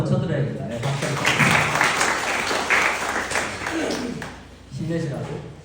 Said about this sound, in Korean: 박수 한번 쳐드려야겠다.